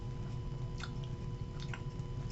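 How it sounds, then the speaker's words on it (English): Chewing sound of a boy eating books, soft wet munching bites repeated in a slow rhythm, quiet and close, with no talking. "chew, chew, chew."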